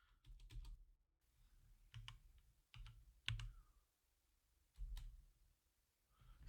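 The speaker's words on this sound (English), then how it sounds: "you do not like me typing though, do you?" Typing on a computer keyboard during a VMware server lab session, with close, clattering bursts of keystrokes separated by short pauses and no talking.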